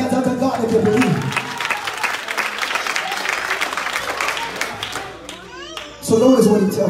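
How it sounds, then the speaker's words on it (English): Church congregation clapping hands during a sermon, sustained dense applause-like clapping for about five seconds with voices mixed in, then a loud preacher's voice returning. "Clap your hands unto God if you believe."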